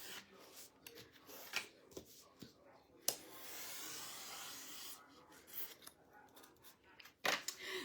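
Scissors or a blade cut through excess white paper while a baby bottle gift box is being made, giving faint close rasping snips and rustles with a few sharper clicks.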